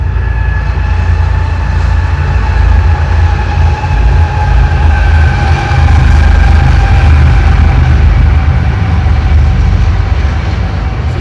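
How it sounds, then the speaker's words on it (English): A train rolls past close by in a steady, loud rumble with droning tonal hum, continuous for the whole stretch and with no voices, heard while someone works on a 1960 Jacobsen push mower outdoors. "Here comes another train."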